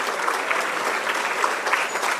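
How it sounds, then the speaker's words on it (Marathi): An audience at an award ceremony in a lecture hall claps steadily, a dense and continuous burst of applause heard fairly close, with no talk over it. "चालतील अजून थोड्या टाळ्या, थोड्या अजून."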